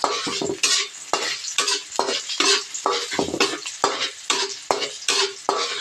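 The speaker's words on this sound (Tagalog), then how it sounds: "Mag-isa muna tayo ng bawang, sibuyas, luya." Garlic, onion and ginger sauté in a pan for squid adobo in coconut milk, a steady sizzle broken by repeated scraping strokes of a spatula or spoon, close and continuous.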